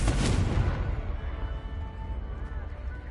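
The Confringo fire spell goes off in Hogwarts Legacy as a loud booming blast at the start, then rumbles away into a low tail.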